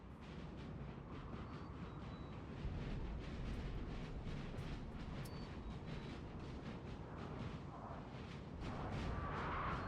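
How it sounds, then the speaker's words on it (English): Cannon fire from French artillery in a Napoleonic-era Peninsular battle in Napoleon Total War, a continuous rumbling barrage of booms and crackling musketry at a distance, steady and dense throughout. "that French artillery you can see shooting along here"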